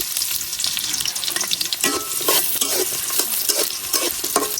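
Chopped onion frying in hot oil in a wok, a steady loud sizzle with scraping stir strokes throughout, no voices.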